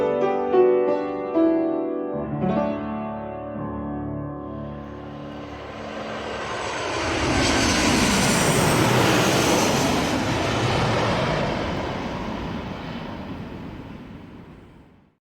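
A jet engine aircraft spools up into a loud, broadband roar that swells and builds to a sustained peak before easing slightly, with tonal whine early on and no voices.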